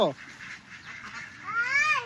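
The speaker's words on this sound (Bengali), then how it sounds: "হাঁস আসো আসো, হাঁস আসো আসো বলো, ঘরে আসো" Ducks quack in short nasal bursts, one call at the start and a louder run of calls near the end, close by and mixed with a person talking and calling to them.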